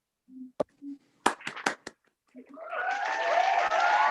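Applause from a small stand-up comedy open mic audience swells up after a few scattered claps and taps, building into steady clapping that carries to the end.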